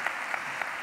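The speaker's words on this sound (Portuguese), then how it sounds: "E vamos aplaudir, né, pessoal?" Applause from a congregation at an evangelical television worship service: a steady, fairly faint wash of many hands clapping together, with no voices over it.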